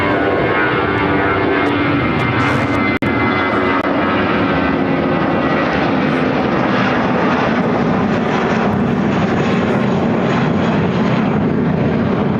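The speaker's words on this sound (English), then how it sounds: "Airlines 2100 taking off to Dallas Fort Worth on the A319." An Airbus A319 airliner takes off at O'Hare with a loud, continuous engine roar that fills the whole stretch, steady and close and without letup.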